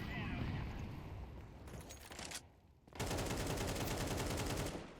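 Rapid rifle spray gunfire in Counter-Strike 2, dense sustained bursts with a short lull in the middle before firing resumes, loud and close, with voices talking over it.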